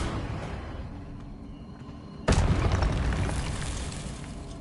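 A Confringo spell explodes in Hogwarts Legacy, one sudden loud blast that cuts through a quiet background and trails off in a long rumbling, crackling decay.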